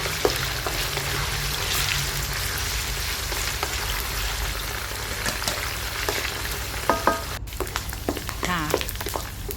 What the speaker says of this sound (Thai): ต่อไปเราก็จะเอาหมูสามชั้นลงไปทอดนะคะ